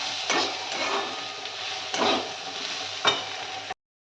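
Spring onion greens with sprinkled poppy seeds are stir-fried in a pan, giving a steady close sizzle broken by a few scraping stirs of the spatula, with no talk.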